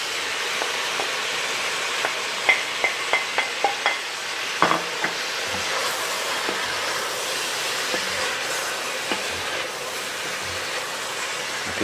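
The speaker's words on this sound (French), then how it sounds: "On fait revenir comme ça pendant à peu près 5-10 minutes avec donc la carotte et l'oignon." Beef pieces sautéing in a pot with added carrots and onion for beef bourguignon, a steady soft sizzle broken by a quick run of spoon taps and stirring clatter near the start.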